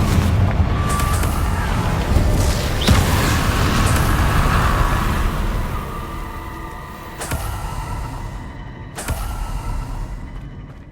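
A Confringo blasting spell exploding in Hogwarts Legacy, booming bursts over a loud rumbling roar, then a few sharp cracks as the rumble fades.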